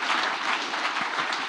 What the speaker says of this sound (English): Give a big round of applause for Megan and its SPI.